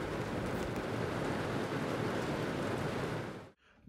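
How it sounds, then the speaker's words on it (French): Heavy rain pours outdoors at a scooter event, a dense, loud, continuous hiss that cuts off abruptly near the end, with no talking. "il pleut vraiment à saut"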